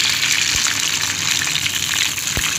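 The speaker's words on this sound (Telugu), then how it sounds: "ఓన్లీ ఫ్రై కాబట్టి కొన్ని వాటర్ పోస్తున్నాం" Water gushes into a hot pan of chicken feet frying in oil with turmeric, a loud, bright rushing splash that holds steady, with a couple of faint low knocks of the pan.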